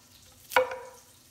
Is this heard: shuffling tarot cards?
no